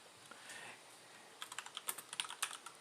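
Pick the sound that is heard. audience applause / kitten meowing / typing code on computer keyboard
typing code on computer keyboard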